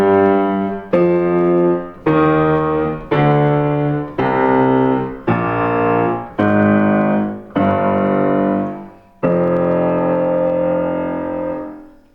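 Piano chords from C.P.E. Bach's Solfeggietto struck one after another, each held briefly, stepping downward in a slow descending line, loud and close, ending on a longer sustained chord.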